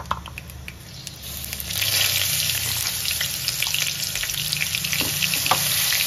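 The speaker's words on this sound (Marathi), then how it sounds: "चांगला परतून घ्यायचा" Crushed chili thecha with asafoetida and turmeric sautés in a pan, a close, steady hiss that swells after a couple of seconds, dotted with light clinks and scrapes of stirring.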